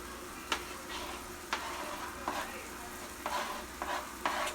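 Ground beef frying in a pan with onions added, a steady close sizzle broken by several short stirring scrapes and clinks, with no talking.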